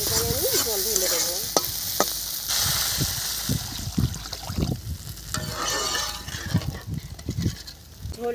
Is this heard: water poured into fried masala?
yes